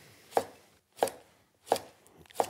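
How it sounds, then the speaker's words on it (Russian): Knife chopping cucumbers into thin strips on a board for chow mein noodles, four crisp separate chops at a slow even pace, close and clear with no voices. "Огурчики тоже будут нарезаны"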